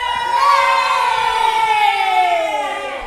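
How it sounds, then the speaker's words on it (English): An audience at St Stephen's Church in Bradford gives a loud, sustained group cheer, many voices holding a high whooping tone that slowly falls away. "so give us a cheer, people from St Stephen's"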